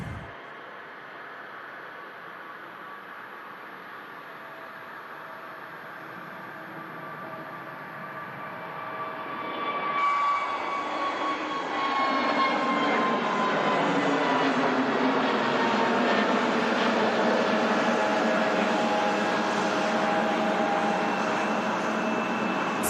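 An EasyJet airliner rolls out for takeoff at Manchester Airport, bound for Antalya, with a steady engine whine and rumble that swells louder about halfway through and then holds, heard from a distance with no talk.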